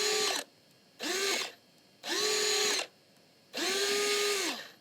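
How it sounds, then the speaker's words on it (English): A motorized IPD adjustment on an XTAL 3 VR headset whirs in four short electric bursts, each rising and settling in pitch, faint and held close with quiet gaps between. "here you can change the IPD and it's motorized."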